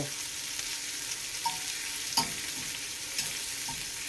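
Chicken pieces sizzle steadily in a pan beside garlic herb pasta, a continuous bright frying hiss with a few soft clicks and scrapes as the pieces are turned.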